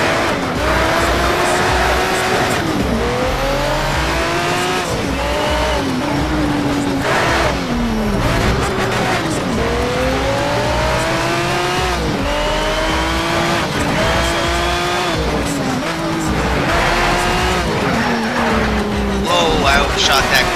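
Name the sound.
race car engine and tire skid, Need for Speed Shift video game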